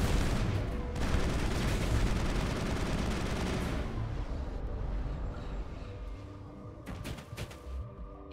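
Dense, continuous sci-fi gunfire from a Mass Effect firefight in a lab, loud and sustained at first, then thinning into scattered individual shots and thuds.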